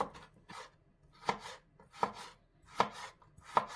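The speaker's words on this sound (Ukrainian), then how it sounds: "Огірочок нарізаємо соломкою." A knife slices cucumber into julienne strips on a cutting board, five crisp chops spaced at an even, unhurried pace, close and clear with no talking.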